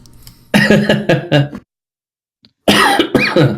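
Several sharp, loud coughs close by, a quick burst of three or four followed by a pause of near silence and then two more harsh coughs with a throaty, rasping quality.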